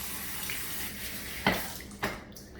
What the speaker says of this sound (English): I'm gonna rinse a little bit.